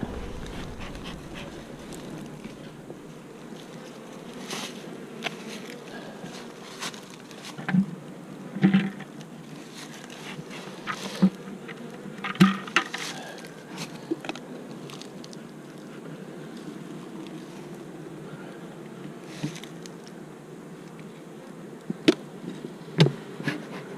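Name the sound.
honeybees buzzing at a hive colony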